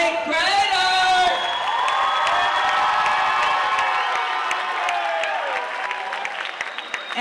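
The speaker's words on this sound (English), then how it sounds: "Clap it up for my 8th graders." At an 8th grade bridging ceremony, a crowd bursts into sustained clapping and cheering, with high whoops and excited shouts rising over the applause and gradually easing toward the end.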